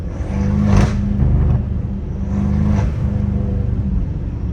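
A BMW M5 Competition engine rumbles and revs up close, with a couple of sharp crackling exhaust pops riding over the steady low drone.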